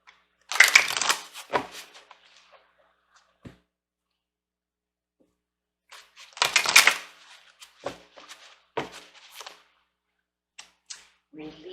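Tarot cards riffle and slap together in two bursts of crisp, papery shuffling several seconds apart, each followed by a few lighter taps and flicks in an otherwise quiet room.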